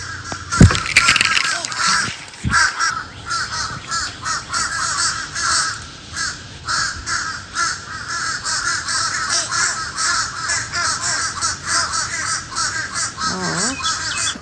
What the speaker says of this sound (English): I feel like these are crows.